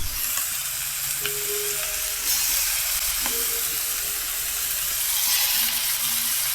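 Food frying in a pan during home cooking, a continuous close hissing sizzle with occasional soft clinks and tonal utensil scrapes, no talking.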